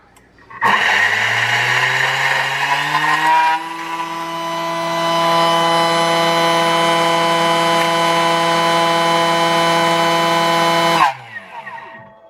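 A kitchen stand mixer whirs at speed 10 while mixing homemade bread dough, a loud steady motor whine that starts abruptly, climbs in pitch after a few seconds, holds for several seconds and then cuts off.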